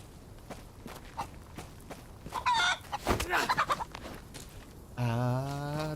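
A chicken clucks and crows in the survival game DayZ, set on Namalsk, amid soft footsteps, with a sharp burst of clucking midway and a sustained crow at the end.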